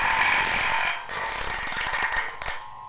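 A bandsaw blade is sharpened with a manual file, making a harsh, continuous metallic rasp up close that breaks into quicker scraping strokes before stopping.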